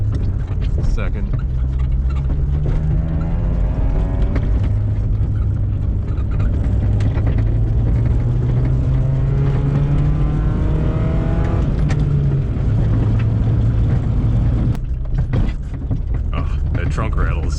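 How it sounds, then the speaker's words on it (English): Honda Civic wagon with 4WD on Hankook Winter i*Pike snow tires driving on snow and ice, a loud low engine drone rising through gears inside the cabin, with rattling from the trunk and a voice talking over it. "Trunk rattle is so bad, I gotta fix that."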